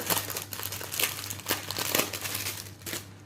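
A crinkly plastic packet of diamond painting rhinestones is torn open by hand, giving close, continuous crackling and crumpling with a steady low hum behind it.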